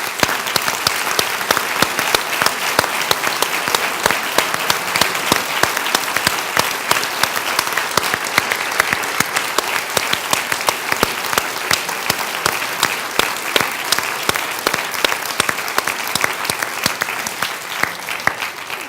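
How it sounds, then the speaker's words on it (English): Sustained applause fills a medical school white coat ceremony hall, many hands clapping steadily and evenly for the full stretch, loud and unbroken without speech. "to stand for a moment of applause"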